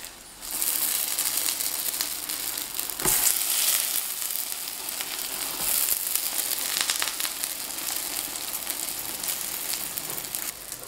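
A chive-filled pancake frying in a covered electric pan with top and bottom heat, a steady close sizzle with crackling pops throughout, and no talking.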